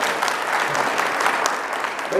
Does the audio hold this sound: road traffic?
no